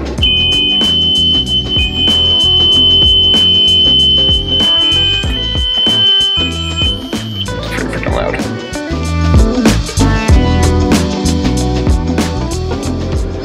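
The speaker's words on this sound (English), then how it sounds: "that alarm I wired, it's pretty loud. You want to hear it?" A loud, piercing alarm wired on a sailboat sounds steadily for several seconds over clattering, busy background noise, then cuts off.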